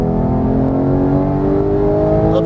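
A Porsche GT3 engine accelerating hard with a loud, steady, close rising drone and rich harmonic whine, with no other sounds over it.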